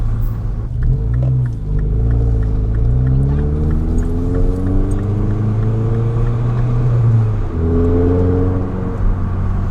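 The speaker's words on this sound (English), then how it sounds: "I'm down in a warehouse district driving this car around" Engine of a 2008 MINI Cooper S JCW driving through a warehouse district, a loud continuous rumble with rising and falling revs through gear changes, heard close without speech.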